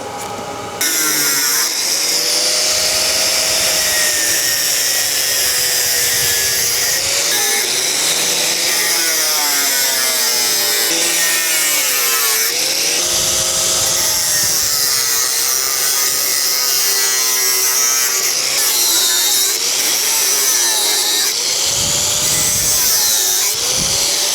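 A power tool cuts out fuel filler panels in a metal fabrication shop, whining loudly and continuously up close, its pitch wavering as it bites and eases through the cut, with short pauses between passes.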